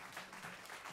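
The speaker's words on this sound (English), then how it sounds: "in honor of Nathan K. Christopher, give us a round of applause." Quiet applause from a jazz club audience, a brief, soft patter of clapping heard at a distance and sounding somewhat muffled.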